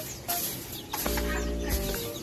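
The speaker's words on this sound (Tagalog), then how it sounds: "Yung mga manok doon." Backyard chickens clucking close by in a few short bursts over a low steady hum, no talk in the clip.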